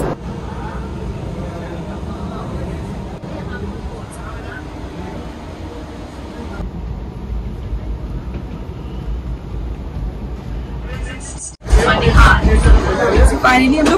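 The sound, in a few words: Indian Railways Vistadome train running, Kashmir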